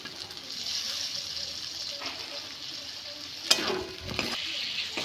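Goat fat and fried potatoes for ghugni sizzle steadily in a pan, loud and close, with a couple of sharp stirring scrapes partway through.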